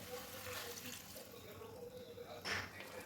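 Water used to rinse a masala grinder jar is poured into a simmering pigeon pea (togari kalu) curry, giving a steady splashing flow that swells briefly near the end.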